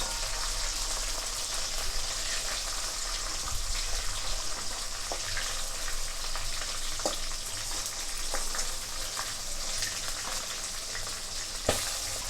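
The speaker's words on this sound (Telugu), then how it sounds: "5 to 6 వెల్లుల్లి రెబ్బలు వేసుకోవాలి. ఇప్పుడు వీటిని కొద్దిగా దూరగా వేయించుకోవాలి." Five or six garlic cloves fry with cumin seeds in a pan for tomato chutney, producing a steady, even sizzle with occasional small pops and utensil clicks and no voices.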